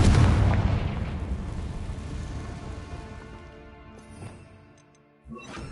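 A Confringo fire-blast spell in Hogwarts Legacy erupts as a loud, booming burst at the start, then decays into a long fading rumble, with a second smaller hit near the end.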